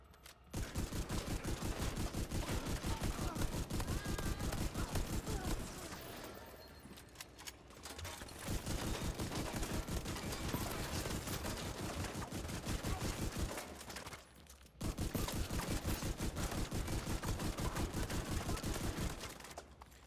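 Sustained rapid gunfire from a shooter video game, fired against Black Tusk enemies while testing a sniper build: loud, dense bursts run in long volleys, broken by two short pauses, with no talking.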